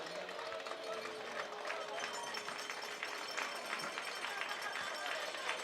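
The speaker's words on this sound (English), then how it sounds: "Nice round of applause here." Applause from a baseball crowd at Holman Stadium in Nashua during a pitching change, a steady distant patter of clapping mixed with crowd murmur, with voices talking over it.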